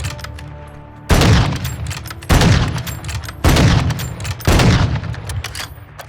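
Four heavy shots from the SPX80 sniper rifle in Modern Warfare 2 ring out at roughly one-second intervals, each a loud close crack with a long booming tail, against quiet game ambience.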